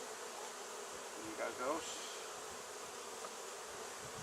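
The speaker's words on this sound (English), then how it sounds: "Bees in there, so I can just drop this in here." A swarm of bees being moved into a top bar hive gives a steady, close buzzing drone, with a brief soft spoken phrase partway through.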